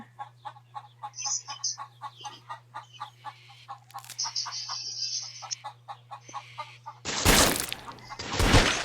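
A chicken in a Roblox horror game clucks in a steady stream of short rhythmic calls over a constant electronic hum, followed by loud crashing, shattering bursts.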